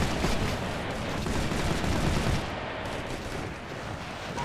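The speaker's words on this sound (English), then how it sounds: "We're taking heavy fire!" Dense, loud gunfire in Operation Flashpoint: Red River, a continuous fusillade of overlapping rifle and machine-gun bursts with a heavy, rumbling battlefield wash that eases slightly toward the end.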